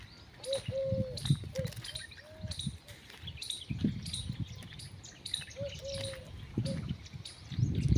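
Pigeons perched at a small substation beside a temple call repeatedly, with short tonal notes and higher chirps repeating over soft low rumbling and rustle.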